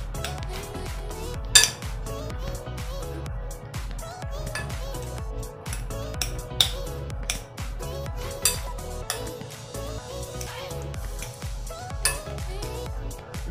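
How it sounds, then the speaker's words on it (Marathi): Vegetable pakora batter is stirred in a bowl with a spoon, giving soft repeated scraping and occasional sharp clinks against the bowl's side over about thirteen seconds in a quiet kitchen. "आता आपण मिश्रण पुन्हा एकदा मिक्स करून घेऊया"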